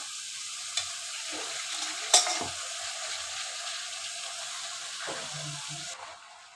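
Spinach sizzling in a hot pan for a potato curry, a soft continuous hiss with a sharp clatter early on and faint stirring scrapes, fairly quiet and without talk.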